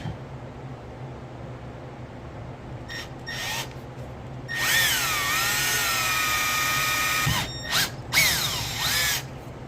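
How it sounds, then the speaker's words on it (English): A power drill bores a quick pilot hole during an SR20DET boost controller relocation, whirring in short bursts and then a longer sustained run with whining pitch shifts near the end. "Then we'll do a quick pilot hole."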